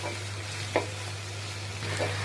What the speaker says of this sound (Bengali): নাড়াচাড়া করব আদা রসুন বাটাও দিয়েছি আবার রসুন গোটা এক্সট্রা করে দিয়েছি নাড়াচাড়া করতে সেটা সাউন্ড করছে